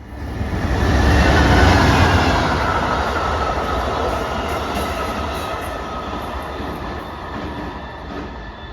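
An Amtrak locomotive-hauled train passes outside Rockville, Maryland, with a loud, low rumble that peaks early and then settles into a steady rolling clatter of wheels on rails.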